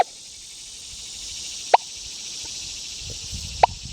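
A Deus 2 metal detector with a 9-inch coil at speed 5 gives two short, sharp beeps about two seconds apart over a US half dime buried in the ground. The beeps sound over a steady outdoor hiss of insects.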